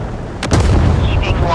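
Torpedo launch from a warship in the Force of Warships naval game: a sudden heavy thump and rushing burst, loud and close, followed by a short whoosh over low rumble.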